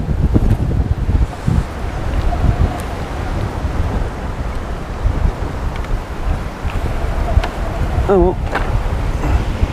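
Strong gusts buffet the microphone outdoors beside a carp fishing lake, a continuous low roar with bursts and flutter, while a man briefly exclaims.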